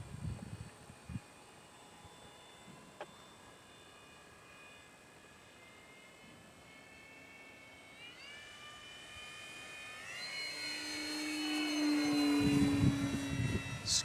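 A Flite Test Corsair RC model airplane buzzes faintly in the distance at first, then its high whining motor grows louder and shifts pitch as it sweeps past overhead near the end.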